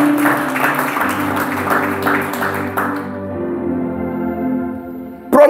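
A church congregation applauds and cheers in acclamation of Jesus over sustained keyboard music; the clapping and cheering fill the first three seconds, then fade, leaving the music alone.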